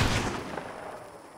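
A single rifle gunshot in Red Dead Redemption, a sharp loud crack at the start that rolls off into a fading echo, with no speech.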